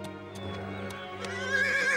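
A horse whinnies loudly and close, a shaky rising neigh over the full two seconds, with faint hoof clops underneath.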